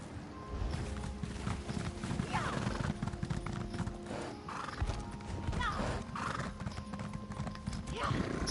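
Horse galloping in The Elder Scrolls Online, a continuous rhythmic hoof clatter with an occasional whinny under busy game sound and some talk.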